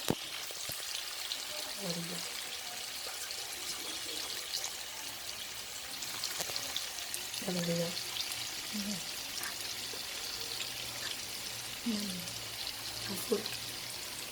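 Fried tofu cooking in an oiled pan, a soft continuous sizzle and crackle heard up close and quietly, with faint voices murmuring now and then in the background.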